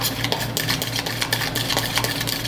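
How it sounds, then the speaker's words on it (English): Beaten egg being stirred into a chicken and shrimp carbonara in a pan, a steady run of close scraping and clinking of a utensil against the cookware with no talking. "soon as you add that egg in, you gotta make sure you start stirring it"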